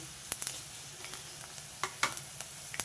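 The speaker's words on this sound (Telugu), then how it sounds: "ముందుగా ధనియాలు వేసేస్తాండి తర్వాత మెంతులు బాగా వేడెక్కిపోయిందండి బాండి" Coriander seeds and fenugreek dry-roast in a very hot pan, giving a steady faint sizzle broken by scattered light scraping and stirring clicks, close by.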